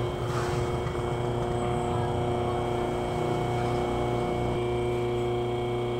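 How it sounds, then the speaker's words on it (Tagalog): A Shark Pro 1.5HP copper-type power spray motor runs with a steady, even electric hum and a low drone that continues without a break, close by. "Actually, di naman talaga naingay itong mga motor eh."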